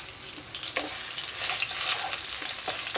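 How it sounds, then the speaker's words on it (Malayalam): Ginger garlic paste sautéing in a pan for a brinjal masala, a steady close sizzle and crackle with faint stirring scrapes, no voices. "ഇതിൻ്റെ പച്ചമണം ഒന്ന് മാറാൻ ഒന്ന് വഴറ്റുക"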